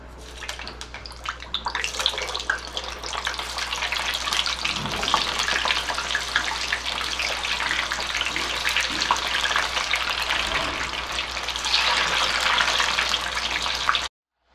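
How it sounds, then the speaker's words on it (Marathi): Sweet potato pieces frying in hot oil for Surati undhiyu, a continuous dense sizzle and crackle that stays steady and fairly loud throughout, with no talking. "एकीकडे मी रताळं तळायला ठेवलेलं आहे"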